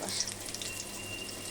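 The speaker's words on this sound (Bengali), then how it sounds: "এই পটল ভাজা হচ্ছে এই প্রথম এইবারে।" Slices of pointed gourd (potol) fry in hot oil in a home kitchen, a soft, steady crackling sizzle heard close but fairly quiet, with no voices.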